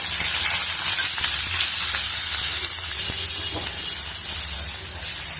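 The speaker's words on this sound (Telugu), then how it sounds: "కొద్దిగా వేయించాలి ఇప్పుడు ఉల్లిపాయ ముక్కలు" Thin-cut onion pieces fry in a pan, giving a steady, close sizzle with a bright hiss and occasional stirring clicks, with no voices.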